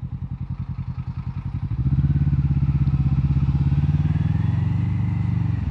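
A Triumph Rocket 3 motorcycle engine rumbles with a deep, pulsing idle-like throb that swells into a louder, steady drone as it passes close by, with no talking.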